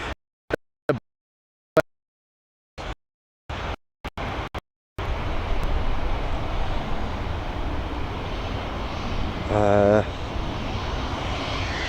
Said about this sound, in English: It's an A321, she's heading over to Leipzig. Operated by SmartLinks, but on behalf of DHL